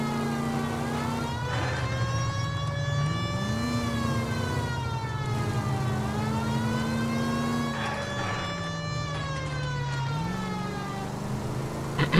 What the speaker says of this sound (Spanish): Sirena a último momento.